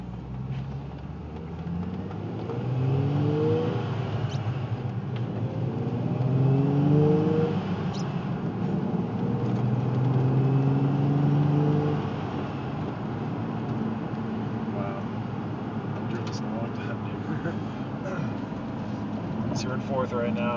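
A supercharged 2005 Nissan 350Z cruising in fourth gear, a steady engine drone with road rumble that swells slightly and eases, while a person talks over it throughout.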